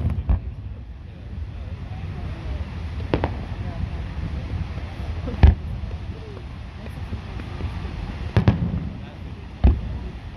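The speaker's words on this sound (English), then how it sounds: "Redondo Beach play 40 minute firework on two locations" Distant Fourth of July fireworks at Redondo Beach, California, pop and boom at scattered intervals, about five sharp bursts over a steady outdoor wind-like rumble.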